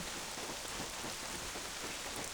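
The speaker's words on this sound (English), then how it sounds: "enjoy the view while it's raining and while the sun's coming up" Steady rain pours down in the video game Black Desert Online, a dense, even hiss that stays constant throughout with no voices.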